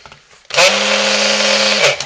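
A stick blender switches on and whirs steadily for about a second and a half while mixing lye into oil for homemade soap, a loud close motor hum with a sloshing, churning edge.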